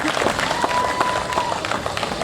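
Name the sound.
audience applause for the judge at a timbersports show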